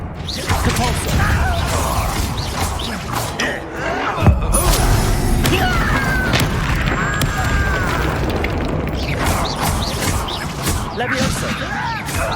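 The Depulso spell is cast in Hogwarts Legacy amid combat, with booming blasts and crashes, a sharp impact near the middle, and voices shouting spell names over the continuous noisy fight.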